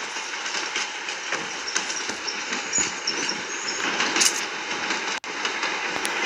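A steady rumbling train in PUBG Mobile rolls past with a continuous mechanical hum and faint clatter, moderately close, no voices.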